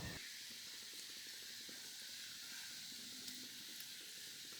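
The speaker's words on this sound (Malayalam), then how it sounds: "ഇത് സേവാനാഴിലിട്ട് കുഴച്ചെടുത്ത മാവിൽ നിന്നും കുറച്ച് സേവാനാഴിലേക്കിട്ട് ചൂടായി കിടക്കുന്ന ഓയിലിലേക്ക് ചുറ്റിച്ചു കൊടുക്കാം" Pakka vada dough from a sevanazhi press hisses and sizzles in hot oil as a steady, continuous frying sound, even and moderately quiet throughout.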